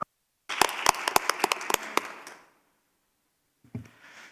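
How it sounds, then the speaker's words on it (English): A small audience at a peace movement forum session claps briefly, a scattering of sharp, distinct hand claps that fade after about two seconds, followed by silence and a short rustle. "Please give her a big round of applause"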